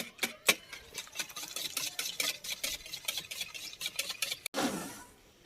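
A hand-cranked beater whisks eggs, milk and oil in a bowl, making a rapid, rhythmic whirring clatter close by that runs steadily, breaks off for an instant, then resumes more roughly, with no voices.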